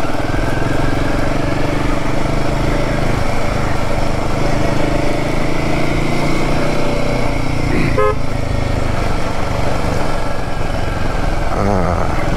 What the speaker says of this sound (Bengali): পুরোপুরি ইঞ্জিন ব্রেকিং করে নিয়ে আসতে হচ্ছে।